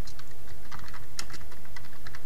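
Fingers type on a computer keyboard, a quick uneven run of light clicky keystrokes over a low background hum.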